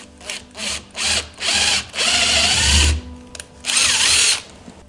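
A power drill fitted with a 6 mm bit bores a hole into wood in several loud close bursts, whining up and easing off between pushes, the pitch dropping as the bit bites in.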